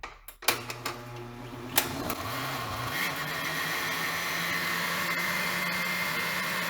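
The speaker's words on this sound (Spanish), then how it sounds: "Y ahora sí lo vamos a licuar muy bien." After a few sharp clicks and knocks, a kitchen blender starts up and runs steadily at full speed, loud and continuous, pureeing cooked tomato and chili with their cooking liquid for a red salsa.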